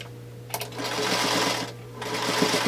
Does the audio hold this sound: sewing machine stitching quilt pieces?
yes